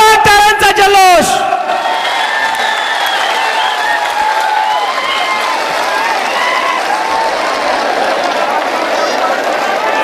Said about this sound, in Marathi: एकदा जोरदार टाळ्यांचा जल्लोष।